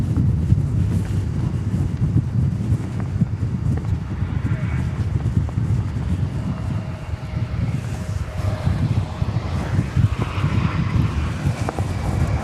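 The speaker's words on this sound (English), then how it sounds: "And there goes the Turkish Dreamliner, as predicted, across the bridge to the east side of the airport for takeoff to Istanbul." A Turkish Airlines Boeing 787 Dreamliner taxis to takeoff at DFW airport, crossing the taxiway bridge to the east side: a steady, broad low rumble with gusty wind buffeting the microphone throughout.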